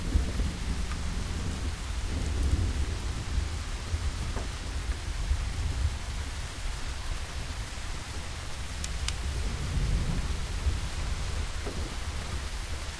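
A thunderstorm in the Boogeyman video game sends dense, steady rain over a deep low rumble of thunder, with a few faint crackles. The sound is continuous and moderately loud, with no talking.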